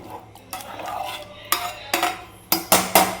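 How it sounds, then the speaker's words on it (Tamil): A spoon scrapes and clinks against a metal pot of boiling water in several distinct strokes, the knocks coming closer together toward the end, loud and near. "தண்ணி ஊற்றி நல்லா கிளறி விட்டுக்குங்க"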